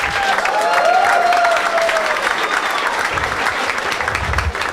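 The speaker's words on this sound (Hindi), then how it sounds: "एक बार ताली बजा दो इसके लिए सब लोग।" An audience at a stand-up comedy show applauds steadily throughout, a dense, continuous wash of clapping that stays loud and full, with faint crowd murmur and a brief tonal sound near the start.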